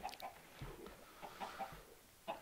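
A chicken in the Minecraft video game makes a string of short, faint clucks, a few quick blips spread over a couple of seconds, with no talking over them.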